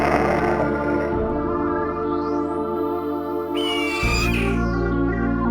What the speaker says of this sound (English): And of course, they make, like, eagle sounds.